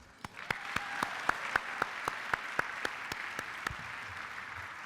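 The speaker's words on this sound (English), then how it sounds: "I cannot begin this evening without giving another round of applause to Jose Soltero" Applause at a STRIVE gala for Jose Soltero: a steady wash of clapping from the crowd, with one close clapper striking sharply at an even, regular beat throughout.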